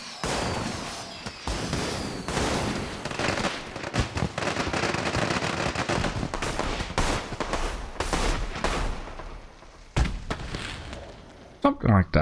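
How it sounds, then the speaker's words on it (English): A fireworks show in the video game Planet Coaster 2 sends out dense, continuous crackling and popping bursts for about twelve seconds, with a few sharper bangs near the end. "with this thing, you can make like a fireworks show"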